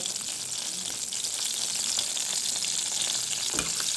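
Bitter gourd pieces fry in hot oil in a pan, producing a constant dense hiss and crackle throughout, with a brief thud near the end as the pieces are stirred; no one speaks.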